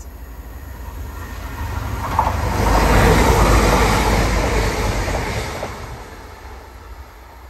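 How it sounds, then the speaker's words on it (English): A passenger train to Halifax and Leeds rumbles into a station, its noise swelling to a broad roar mid-clip, with faint wheel squeals, then gradually easing as it slows. "here's our train to Halifax for Leeds"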